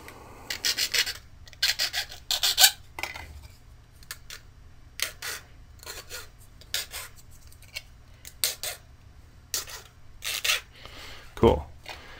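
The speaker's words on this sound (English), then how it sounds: "I use this rasp file." Hand rasp file scraping burrs off a 3D-printed plastic part, heard as close, repeated short bursts of gritty filing strokes in an uneven rhythm, with a person talking between them.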